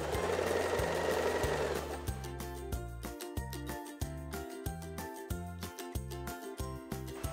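A sewing machine stitches the edge of a blouse ruffle, joining two fabric layers edge to edge. It opens with a loud, steady whir, then settles into a rhythmic run of repeated mechanical pulses, close by and with no talking.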